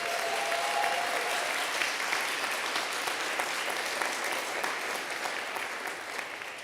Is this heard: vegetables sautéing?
no